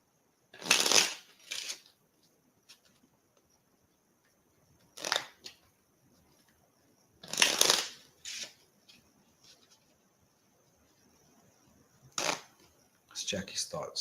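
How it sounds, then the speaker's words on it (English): Several separate bursts of playing cards being shuffled, crisp riffling rustles with quiet pauses between them, fairly soft and close. "One more shuffle."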